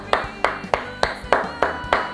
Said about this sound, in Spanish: aplaude al Señor, que este aplauso sea para Cristo.